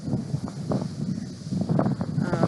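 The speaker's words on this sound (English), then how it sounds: "it's so windy out here and I know it is messing with the mic" Low, blustery outdoor wind buffeting the microphone, a steady rumbling roar with gusty bursts throughout.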